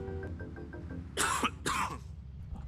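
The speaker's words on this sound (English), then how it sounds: "I do apologize for my cough" Two harsh coughs in quick succession from a man speedrunning a video game, close to the microphone and following a stretch of soft background noise.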